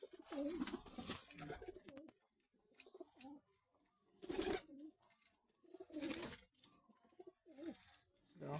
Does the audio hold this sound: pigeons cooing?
yes